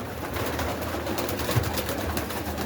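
Pigeons at a loft early in the morning, with soft continuous cooing and fluttering spread through a steady outdoor wash, moderately close and without any talking.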